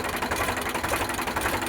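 An Eicher 368 tractor engine idles with a steady, close diesel chatter and a fine mechanical rattle, holding an even level throughout without any talk over it.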